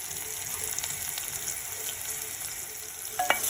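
Mustard seeds and curry leaves frying in hot oil for a potato curry, a constant bright hiss of sizzling with small crackles and a sharper pop near the end.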